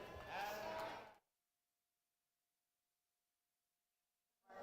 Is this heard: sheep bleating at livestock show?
yes